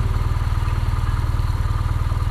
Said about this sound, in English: it's got an 1170cc engine, 109 horsepower, and 116 newton meters of torque.